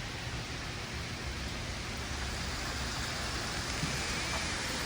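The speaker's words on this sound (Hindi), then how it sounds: "बहुत ज़्यादा तेज़ बाहर बारिश हो रही थी।" Heavy rain pours steadily outside near a veranda, a dense even hiss of falling water with no breaks, moderately quiet and unbroken by voices.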